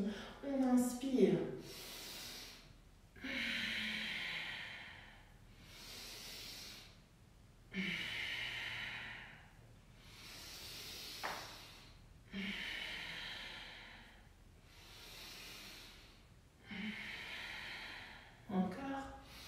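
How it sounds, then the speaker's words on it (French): Slow, deep breaths during a vinyasa yoga class, about seven long airy inhales and exhales in a steady rhythm, close and fairly soft, with a brief voice at the start and again near the end. "On inspire."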